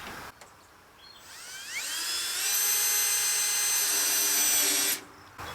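A power drill driving a screw into a soffit during soffit and fascia installation, close and clear: one high whine spins up, holds steady for a few seconds, then cuts off sharply against quiet surroundings.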